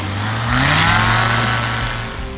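The engine of a Rans S7-S Courier light aircraft roars up at close range, its pitch climbing as it revs, then holding at a loud, steady drone that eases off slightly at the end.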